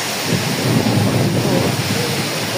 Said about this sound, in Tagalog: Ngayon lang po ako naka-experience ng ganito kalakas po na bagyo.